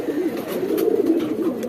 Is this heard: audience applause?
no